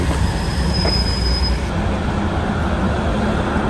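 A loud train arriving at a station rumbles in with steady roaring wheels and a thin high squeal, the heavy noise continuous and close throughout.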